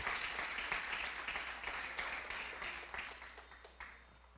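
A church congregation applauds, a broad wash of many hands clapping at a distance, faint and gradually fading out over a few seconds.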